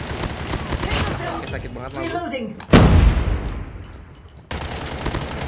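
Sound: SMG gunfire in a shooter video game

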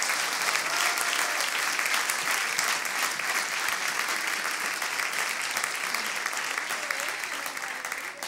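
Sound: congregation applause

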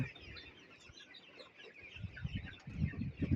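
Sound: desi chicken clucking

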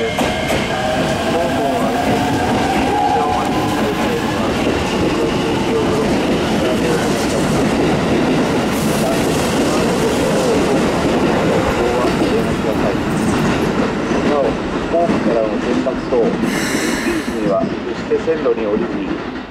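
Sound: Keikyu train arriving and passing at Kanagawa-Shinmachi station

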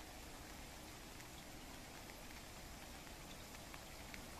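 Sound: heavy rain falling by an irrigation canal

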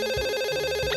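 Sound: telephone ringing

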